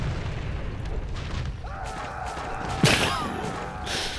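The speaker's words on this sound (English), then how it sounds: "I'll drop a bomb there." A bomb dropped in Warcraft 3 lands with one sharp, loud blast amid ongoing battle noise, followed by a short crackling tail.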